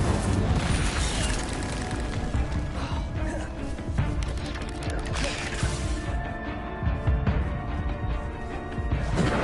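Incendio fire spell cast in the Hogwarts Legacy video game: a dense, roaring burst of fiery booms and crashes that stays loud and continuous, with clattering combat sounds layered throughout.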